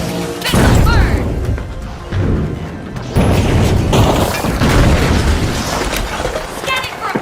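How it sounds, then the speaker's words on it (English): Heavy missile blasts from The Finals arena shooter boom and crash in overlapping rolls. The loud, dense explosions run almost continuously across several seconds with a mechanical clatter mixed in. "Missile burn!"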